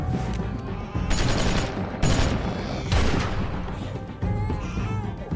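Gunfire in The Walking Dead video game, a rapid loud barrage of overlapping shots in several bursts, close and sustained across the whole clip with heavy cracks and booms.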